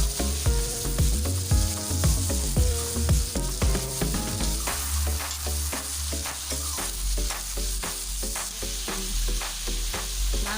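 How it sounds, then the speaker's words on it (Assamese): Chicken curry meat being stirred as it fries in a pan, with a steady sizzle under repeated scraping and clattering strokes of the spoon against the pan throughout. "মাংসখিনি এতিয়া ভালদৰে লৰাই দিছে আৰু এতিয়া অলপ সময় ঢাকোন মাৰি সিজিবলৈ দিব।"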